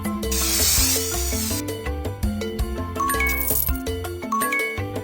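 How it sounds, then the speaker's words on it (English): A brief hissing spray-paint burst in a pet makeover dress-up game sits over busy, bright game music full of chimes and tinkling tones. "Now spray my beak with paint."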